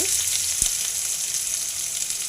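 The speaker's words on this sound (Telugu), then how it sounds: "పచ్చిమిర్చి కరివేపాకు ఫ్రై అవ్వాలి." Green chillies and curry leaves fry in hot oil for cabbage curry, giving a steady, close crackling sizzle with one brief clunk early on and no talking.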